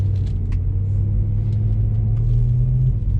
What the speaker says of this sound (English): That exhaust note, oh, it just gives me, like, just makes the hairs on the back of my neck stand up every time I hear it.